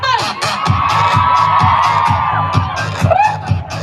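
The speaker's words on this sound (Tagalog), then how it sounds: "Sigaw naman dyan!" A festival crowd at Hong Kong Fest 2025 shouts and cheers, loud and close, with whoops and yells rising in repeated bursts and a rhythmic thumping beat underneath.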